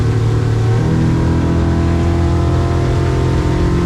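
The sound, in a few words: Yamaha F150 outboard motor on 2025 Seahawk boat accelerating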